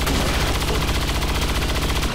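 Rapid gunfire from the video game XCOM 2, a dense, loud burst of shots packed tightly together for the full length, nearly continuous and booming.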